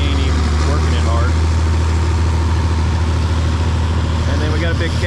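A John Deere 5020 tractor fitted with duals and a cab idles at a threshing bee, its low, steady engine rumble continuous and close, with someone talking over it throughout.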